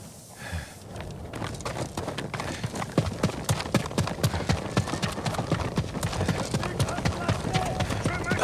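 Horse hooves pound steadily in a fast galloping rhythm, close and loud, over a rushing background, with no voices, in the video game Ghost of Tsushima.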